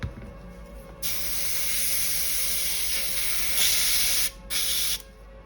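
Glossy varnish hisses from an aerosol can onto a painted Games Workshop Thermic Plasma Conduits miniature in sharp close bursts, one long spray, then a brief pause and a short final burst.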